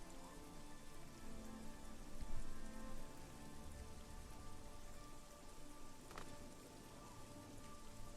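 Steady rain pours in The Elder Scrolls IV: Oblivion, a dense continuous hiss of drops on surfaces, moderately loud and unbroken throughout, with no voices.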